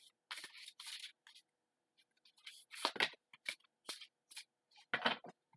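Large tarot cards being shuffled by hand, giving bursts of crisp riffling and slapping in irregular clusters separated by short pauses, close to the microphone with no talking.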